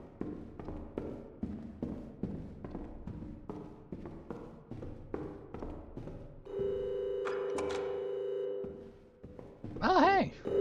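In a horror video game, a phone rings as footsteps approach: a steady electronic tone sounds for about two seconds, then a short warbling ring, fairly soft.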